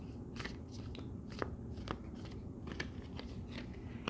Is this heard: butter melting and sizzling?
no